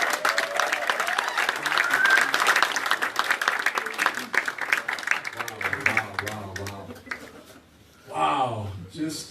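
Crowd applause and cheering greet the reigning WWE World Champion on arrival at Kotoka Airport in Ghana. The clapping is loud and dense at first, then thins and gives way to someone speaking, with a brief swell of crowd noise near the end.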